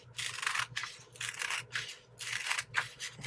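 Scissors snip through paper strips in a series of slow, separate crunching cuts, each a short raspy slice with brief pauses between, close and fairly quiet.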